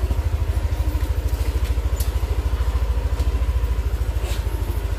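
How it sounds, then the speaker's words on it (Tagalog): Motorcycle engine running at idle nearby, a fast, even putter of low thumps that stays steady and loud from start to finish, with no talking. "Pinapa-andar ko na yung motor ko."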